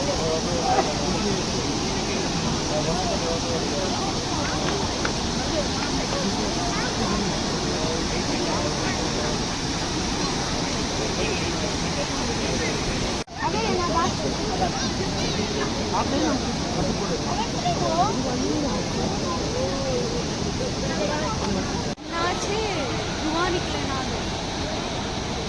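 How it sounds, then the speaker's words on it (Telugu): The Barachukki waterfall at Shivanasamudra Falls roars as a dense, continuous wash of rushing water, loud and unbroken throughout. "ఈ బారాచుక్కి ఫాల్స్ విజువల్స్ కూడా ఒకసారి లుక్ వేసేయండి"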